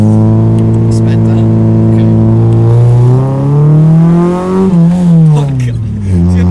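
A car engine revs up loudly and steadily, climbing in pitch, then drops as the driver shifts gear and picks up again. It is heard close from inside the car, with a little talk mixed in.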